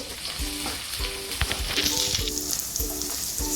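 Garlic, green chillies and curry leaves sizzling in hot oil, a steady crackling fry with occasional scraping and stirring clatter, close and moderately loud, no voices.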